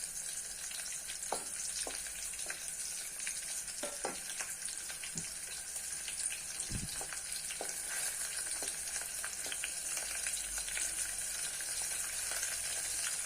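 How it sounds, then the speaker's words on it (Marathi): Garlic sizzles steadily in hot oil in a pan, browning for a Maharashtrian matki rassa curry, with a constant bright crackle and occasional scattered pops and spoon scrapes throughout, no voices. "लसूण लालसर करून घ्यायचा"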